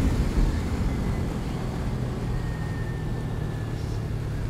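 Steady, loud drone of a 250cc motorcycle engine while riding, a constant rumble with wind noise and no breaks, heard up close throughout.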